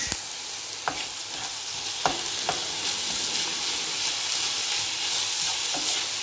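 Cabbage being stirred into minced meat and onion frying in a pan, with a steady sizzle and a few sharp utensil scrapes and clicks, close and fairly loud throughout.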